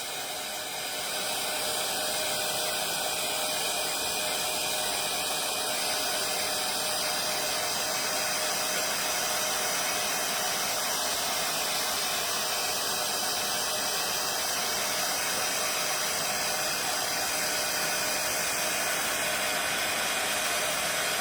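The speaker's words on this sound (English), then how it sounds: "I'm just going to heat tool this." A heat tool blows continuously over a mixed media background, giving a loud, steady fan whoosh and hiss that runs unbroken for about twenty seconds with no speech.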